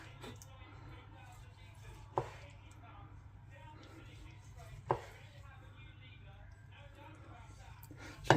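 A knife slices oranges for marmalade, making a few sharp chops several seconds apart over faint background sound and low speech.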